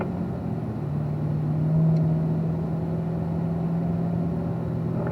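A race car on a track accelerates in fourth gear, a steady engine drone that rises slightly in pitch, heard from inside the car with no talk.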